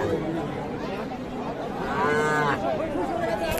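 Calves moo at a busy cattle market selling young bulls and heifer calves, one drawn-out moo rising clearly mid-clip over steady crowd chatter and market noise.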